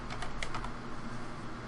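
Typing on a computer keyboard, a quick run of light, close key clicks at an uneven pace over a quiet background.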